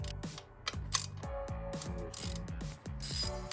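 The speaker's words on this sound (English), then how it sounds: "These are long bolts. Taking these out." Long 12 mm bracket bolts are backed out of an intake manifold on a 2008 Hyundai with a ratchet, quick metallic clicking in steady repeated strokes, close and loud, with no voices.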